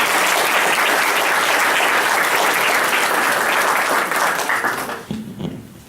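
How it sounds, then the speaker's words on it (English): An audience claps for a panel of speakers at a community discussion event, a dense round of applause that holds steady and then tapers off near the end. "So we're going to give them a round of applause."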